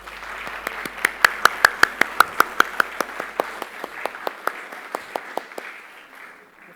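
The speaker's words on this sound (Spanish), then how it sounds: "Un aplauso para él." An audience at a book launch presentation for a music journal of a Bach society applauds a speaker, steady clapping from a room of people building then fading over several seconds.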